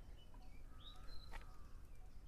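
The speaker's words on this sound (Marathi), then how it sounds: "पक्ष्यांचा आवाज येत असेल तुम्हाला." Birds chirp faintly in the morning, with a few thin, high calls and short whistles scattered over a low, quiet background hum.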